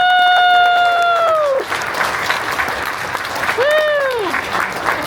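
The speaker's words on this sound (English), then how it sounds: "one more round of applause for the KNOEBELS team" An audience at an amusement resort family Q&A applauds the Knoebels team, a broad wash of clapping with cheers and whoops, while a speaker's voice rises over the start and again near the end.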